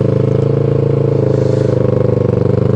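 A tuned motorcycle engine idling low and rough, a steady close, loud throbbing rumble with an uneven, lumpy pulse throughout.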